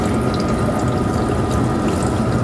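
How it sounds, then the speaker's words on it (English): Water runs steadily from a laboratory tap used for sample cleaning, a loud, even, continuous rush with a faint mechanical rattle and no talk. "Turn on the water to adjust the water flow not to be too strong to heat your sample."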